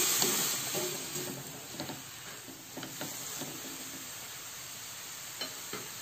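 Young papaya filling simmers with about 100 ml of water in a pan while a spoon stirs it, giving a soft steady hiss with faint scattered clicks and scrapes, close and fairly quiet.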